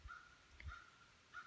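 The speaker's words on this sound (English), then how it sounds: "the crow for sure is getting his voice on here" A crow caws outdoors on a spring day, a few separate calls at moderate distance, fairly faint against low background rumble, with no talking.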